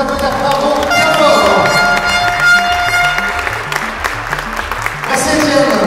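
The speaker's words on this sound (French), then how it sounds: "Bravo à vous, en tout cas, on vous applaudit." A crowd applauds at a school robotics competition in Saint-Quentin, with the clapping partly buried under loud, rhythmic background music and some voices.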